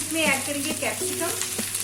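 Capsicum hits a hot pan for restaurant-style chilli chicken, a close, steady sizzle and fry with a faint low hum running underneath.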